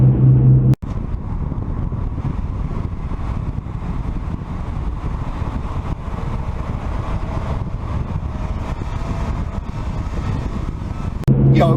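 Road noise inside a BMW E46 M3 with a 6-speed manual while driving, a constant low rumble and tyre roar filling the cabin at steady level, briefly cut off near the start.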